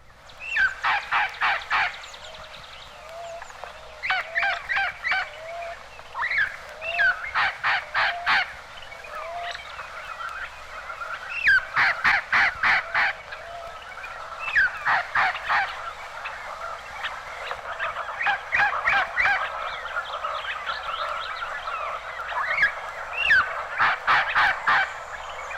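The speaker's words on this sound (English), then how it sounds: "The squawks of the Red Crown Parrot of northeastern Mexico are often punctuated with the distinctive call of Cleo." Red-crowned parrots of northeastern Mexico squawking in repeated harsh, rapid bursts, loud and close, with a steady faint background of other birdsong throughout.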